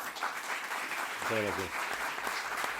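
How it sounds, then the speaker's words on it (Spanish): An audience claps to welcome a guest at a panel on theatre and gastronomy, steady applause filling the room while someone briefly speaks over it. "Os pido un aplauso para él."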